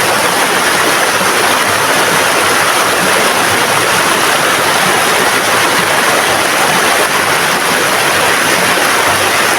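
Cold mountain spring water flowing steadily through a natural stream, a constant broadband rush close by with no talk over it.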